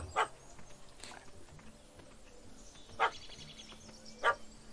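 A dog barks in The Witcher 3 Wild Hunt, giving four short, sharp barks spaced a second or more apart at moderate distance over a quiet game ambience, with no talking.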